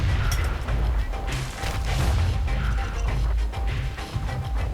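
A power shot attack in the video game Bastion, heard as a run of loud, booming blasts and crashing bursts repeating across the clip over a dense game soundscape.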